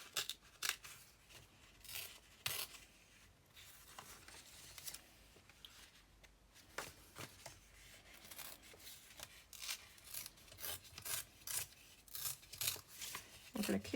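Paper torn by hand for a junk journal, with a series of short, quiet rips and rustles in irregular bursts, some sharper than others, close by in a calm room.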